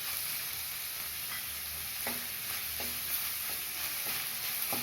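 Sliced carrots and beans sautéing in a pan for vegetable noodles, stirred with a spatula: a steady, close sizzle runs throughout, with several light, evenly spaced scraping strokes and no voices.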